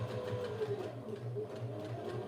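A sewing machine runs steadily through vinyl as a wallet is restitched, with an even, continuous mechanical whir and a rapid stitching pulse close by, with no voices.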